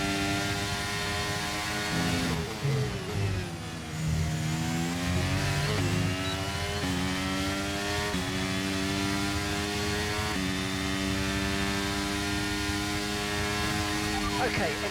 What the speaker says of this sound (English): I'll let you enjoy the lap with the engine sounds.